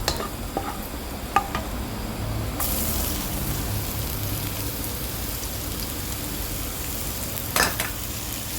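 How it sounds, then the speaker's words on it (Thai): Garlic stir-frying in a pan for a Thai rolled rice noodle dish, a steady close sizzle and crackle throughout with a few sharp spatula scrapes and clicks against the pan. "ผัดให้กระเทียมหอมค่ะ"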